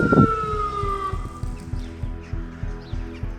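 An ambulance siren in the town of Štip at sunset winds down in a falling wail and cuts off, leaving a regular, repeating low knocking rhythm behind.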